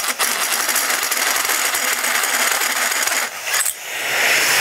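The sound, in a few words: metal washer dropping in a workshop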